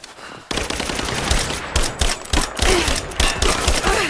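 Rapid gunfire in Rise of the Tomb Raider, with bursts of close automatic shots rattling in quick uneven volleys and a few single cracks mixed in, loud and dense.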